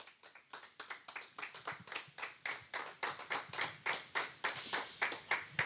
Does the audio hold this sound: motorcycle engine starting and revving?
no